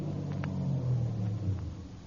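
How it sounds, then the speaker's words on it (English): A car starts and pulls slowly away from a curb, its engine a steady low rumble that holds at moderate loudness throughout with only slight rises. "I started my car away from the curb slowly"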